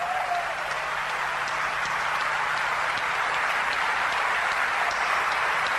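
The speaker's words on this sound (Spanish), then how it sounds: "Este aplauso, tu aplauso, es para ellos." A church congregation applauding during a sermon, a dense, even wash of clapping from many hands that holds steady throughout, moderately loud and with no clear voice on top.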